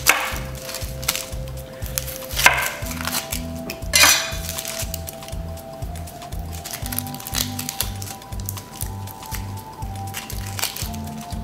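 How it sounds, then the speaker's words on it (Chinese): A knife cuts an onion on a chopping board in a home kitchen, making a steady run of regular, close thuds against the board, with a few louder clatters and a tonal background hum. "首先我哋將個洋葱切咗先啦。"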